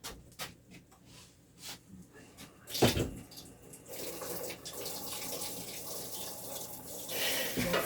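Water poured into a bowl for homemade bread dough, beginning with a few light taps and clinks and then a steady close pour that runs to the end.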